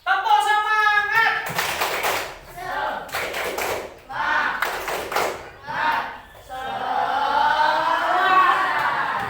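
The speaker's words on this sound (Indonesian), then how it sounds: "Tepuk semangat." Class of children doing the rhythmic 'tepuk semangat' spirit clap, bursts of group clapping in patterned groups alternating with shouted chanting voices, loud and close.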